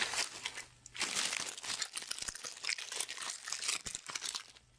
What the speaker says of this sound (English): Why do I hear crunching then?